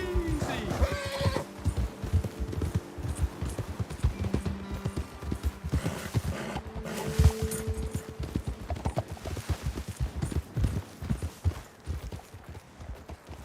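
Horses plod with steady clip-clop hoofbeats on a trail in the video game Red Dead Redemption 2, with an occasional whinny, close and continuous under a voice.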